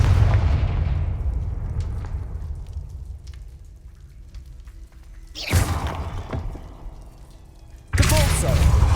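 Confringo fire spell explosions in Hogwarts Legacy: a big boom at the start decaying into a long rumbling tail, then two more sharp blasts a few seconds apart, loud and close.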